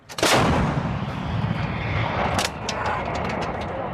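An M777 towed 155mm howitzer fires once during a live-fire exercise, a sharp, loud blast followed by a long rumbling roll and echo, with faint clicks and movement afterward.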